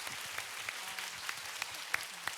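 A concert audience breaks into applause, a dense patter of clapping that holds steady across the whole stretch, with a few sharper individual claps standing out near the front.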